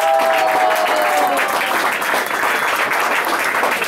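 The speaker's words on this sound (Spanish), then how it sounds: "le pido un aplauso para ella." An audience applauds steadily in a dense, sustained wash of clapping at a live show in Chile, loud and continuous throughout with no voices on top.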